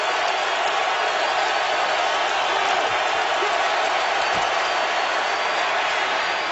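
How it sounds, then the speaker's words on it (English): NFL stadium crowd at a Seahawks-Colts game roaring on a third down, a steady, dense wall of distant cheering and noise with no breaks. "Now the crowd's into it on a 3rd and 10."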